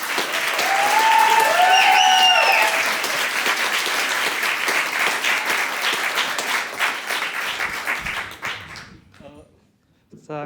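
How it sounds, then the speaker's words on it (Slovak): Loud audience applause fills a Prague comedy club as a comedian is welcomed on stage, steady clapping with some cheers that fades out near the end. "Obří potleskem přivítejte"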